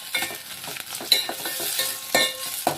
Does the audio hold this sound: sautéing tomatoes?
yes